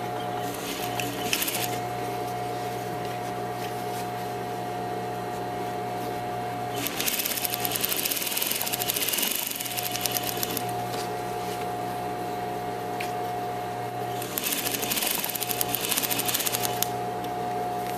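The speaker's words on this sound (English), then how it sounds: "We're going to stitch these together, half inch seam allowance." A sewing machine stitches apron pieces together with a half-inch seam allowance, its steady hum broken by two louder bursts of fast needle clatter, with no talk.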